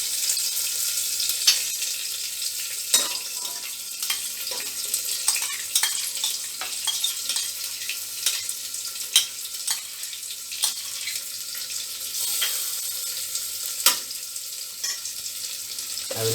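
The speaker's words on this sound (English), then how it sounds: "Let it fry for 1 or 2 minutes. Then I will add the ginger garlic paste." Ginger garlic paste fries in a pan for a quinoa, lentil and brown rice pulao, giving a steady soft sizzle with occasional sharp clinks of a spoon stirring against the pan.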